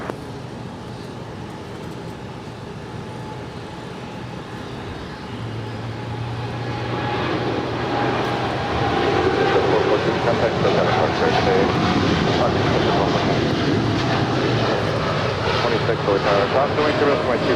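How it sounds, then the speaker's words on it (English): A United Airlines Boeing 787-10 Dreamliner departs LAX, its jet roar swelling from moderate to loud and sustained while people talk over it. "This is United Airlines Flight 2614 departing to Newark Liberty. It's a 787-10 Dreamliner."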